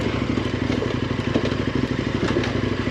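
A KTM 1090 Adventure motorcycle rolls over loose rocks, its engine throbbing loud and steady up close while stones clatter and crackle under the tires.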